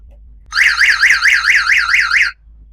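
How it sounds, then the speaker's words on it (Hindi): An electric rickshaw's reverse-gear music horn plays a repeating warbling electronic tone, looping about seven times in a steady rising-falling pattern, loud and close, then stops abruptly. "ये पीछे का हॉर्न है, म्यूजिक हॉर्न"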